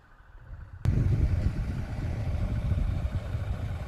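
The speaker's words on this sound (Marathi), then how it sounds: "हे आमचं स्वतःचं ट्रॅक्टर आहे, ते पण देखील आमचं स्वतःचंच आहे. आणि या ठिकाणी आम्ही काम चालू केलेलं" A farm tractor engine starts up abruptly and then runs at a steady idle with a low rumbling chug, close and continuous.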